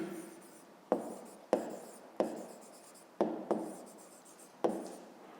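Pen or pencil writing numbers on paper during a school math exercise, a series of quiet sharp taps and short scratchy strokes at an irregular pace, close up and alone.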